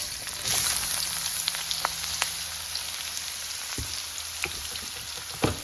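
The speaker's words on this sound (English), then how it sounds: "So all the bacon grease is in, warming, and now I'm going to add the onion. So we're going to kind of saute that a little first." Chopped onion sautés in warm bacon grease in a pan for American-style fried rice, a close, steady crackling sizzle with scattered pops and a few clicks of a utensil, no voices.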